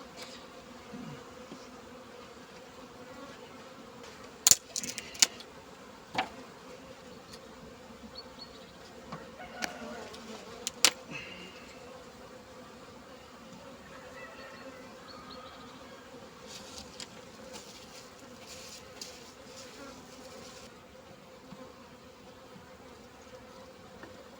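Honey bees buzzing steadily around a hive at an apiary, a continuous insect drone with a few louder passes of individual bees flying close by.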